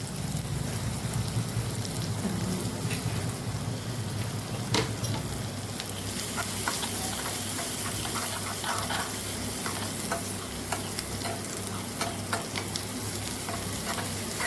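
Garlic paste with chili flakes sautéing in melted butter for cheese garlic dhokla, a steady close sizzle and frying hiss with occasional stirring scrapes, no voices.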